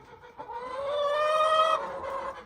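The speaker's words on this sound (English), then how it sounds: "Look at this hen right here." A hen on a small Canadian homestead farm, looking unwell with a faded-looking head and poor back feathers, gives one drawn-out, nasal clucking call lasting about a second and a half, fairly close and alone with no talk.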